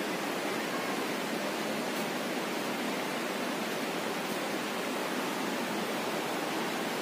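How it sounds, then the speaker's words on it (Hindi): Waterfall flowing behind the Jharna Mata temple in Dhariyawad, Pratapgarh, a steady, even rushing roar of water that continues unchanged throughout, with no voices over it. "पीछे झरने का बहने का यहाँ शोर है"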